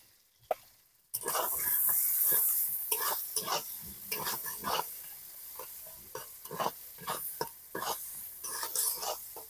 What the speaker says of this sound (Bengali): পেঁয়াজটা আমি হালকা ভেজে নেব